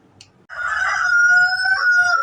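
A rooster crows loudly and close in a long drawn-out call, preceded by a brief cluck, in a village yard where chickens are kept.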